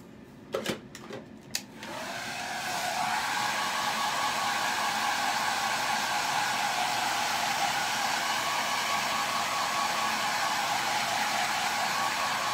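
After a few soft clicks, a dryer starts up and blows steadily as a chalk paste layer is dried, making a loud, continuous whooshing hum that holds unchanged to the end.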